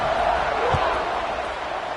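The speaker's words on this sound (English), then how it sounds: "this crowd is buzzing after that last score" Stadium crowd at an LSU versus Colorado college football game, a steady broad roar that holds loud and continuous for the whole stretch, with a brief low thump near the middle.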